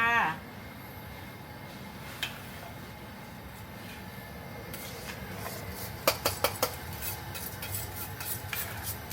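Rice porridge is stir-fried in a pan with scraping and clinking of a utensil against metal, a soft sizzle underneath, and a few sharp knocks near the end, while someone talks over it.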